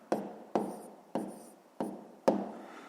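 Pen strokes of an answer being written by hand in a fifth-grade math exercise: five crisp, separate scratches about half a second apart, close and quiet, with no talking.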